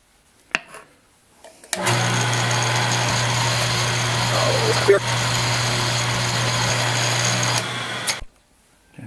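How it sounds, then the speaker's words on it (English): A drill motor whines steadily for several seconds while boring into metal, starting and stopping abruptly, with a constant mechanical drone throughout. "I've got the drill centered on the edge."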